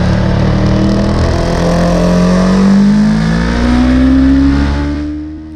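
A race car at Oulton Park accelerates across the line to start a lap. The engine is loud and close, and it rises steadily in pitch through the gears before easing off at the end.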